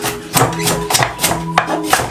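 Knife chopping through carrots in a home kitchen, about seven crisp, regular strikes spaced roughly a quarter second apart, close and fairly loud with a faint steady hum behind.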